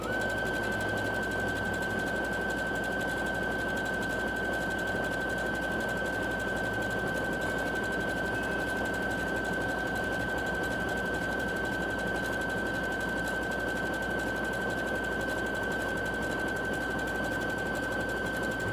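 Overlock sewing machine stitching a pillowcase dress, a steady continuous mechanical whir with a constant high whine running evenly throughout at moderate loudness, with no talking.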